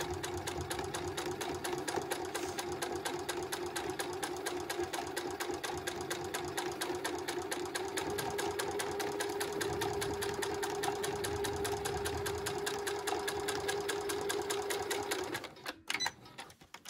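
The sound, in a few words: sewing machine top stitching a zip fly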